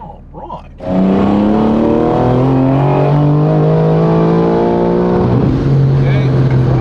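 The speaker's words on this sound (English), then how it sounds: "Definitely hear that exhaust leak." A high-mileage BMW M4 Competition accelerates hard, its engine note climbing steadily through a gear and then dropping into the next, loud and close, with a raspy exhaust leak under the revving.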